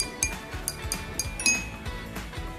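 Glasses are struck one after another in a children's sound experiment, giving a quick run of bright, ringing clinks at close range.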